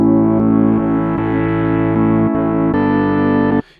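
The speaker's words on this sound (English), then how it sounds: "You actually get quite an interesting sound when you push the drive a little bit" Rhodes-style electric piano chords from a Massive synth patch with overdrive pushed, sustained and gritty, changing every second or so, loud and alone, cutting off near the end.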